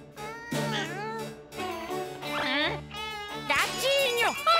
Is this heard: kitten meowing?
yes